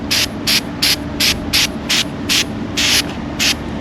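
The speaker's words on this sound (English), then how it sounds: "Just going to lightly spray." Short bursts of spray paint hiss onto a DIY drawer system in a garage, about nine evenly spaced light passes in quick rhythm, close and fairly loud with no talking.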